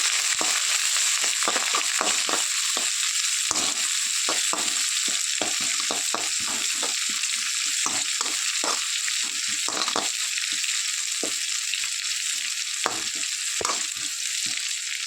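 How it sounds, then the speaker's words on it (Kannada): One large chopped onion fries in a pan for a wedding-style ivy gourd stir-fry, giving a constant hissing sizzle punctuated by frequent quick clicks and scrapes from stirring. "ಈರುಳ್ಳಿ ಸ್ವಲ್ಪ ಫ್ರೈ ಆಗಲಿ"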